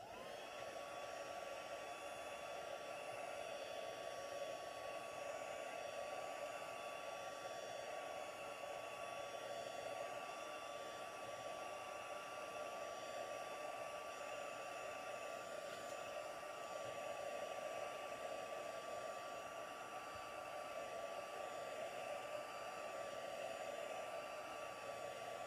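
A hair dryer blows steadily and alone on stamped paper embossed with heat powder and Stampin'Up! markers, a constant close whooshing hum with a whining tone that holds level throughout.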